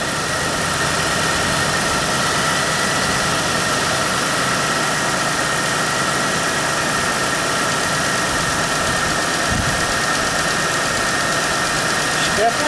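A 2000 Pontiac Bonneville SE engine idles after repair, a steady, even mid-pitched hum with constant vibration and no misses, close by and continuous throughout.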